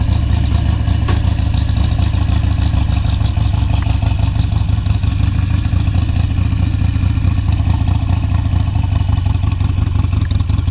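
A Harley motorcycle cruising at low revs, its loud, steady engine rumble filling the whole stretch with a continuous deep throb and faint clatter, heard close with no talking.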